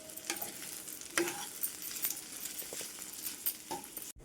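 Boiled taro root pieces coated in turmeric are stirred and fried in a pan until their moisture cooks off. A continuous sizzle runs throughout, with scraping strokes and scattered clicks close by.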